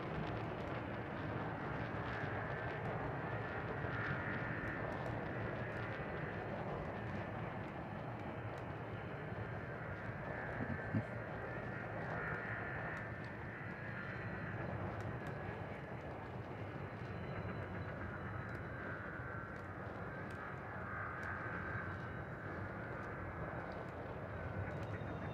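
A spaceship in Elite Dangerous sweeps past with a low, sustained engine roar that swells and eases gently, continuous and moderately faint under steady ambient hum.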